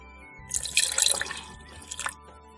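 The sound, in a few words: pouring rice wine vinegar into sauce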